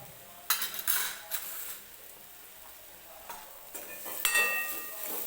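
Dry spices, turmeric, coriander powder and garam masala, stirred into a frying egg curry base in a pan, giving soft sizzling with a few bright scraping strokes and metallic clinks spread across the clip.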